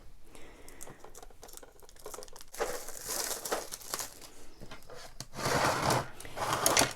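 Packaging of a brand-new graphite pencil set being torn open and unwrapped, with steady close crinkling and crumpling that swells into louder bursts of rustle near the end, no talking.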